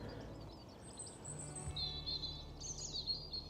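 Birds sing territorial calls beside a newly dug, low-water lake at Sheerness on the Isle of Sheppey; thin high chirps and whistles come in short bursts at moderate distance over faint background noise.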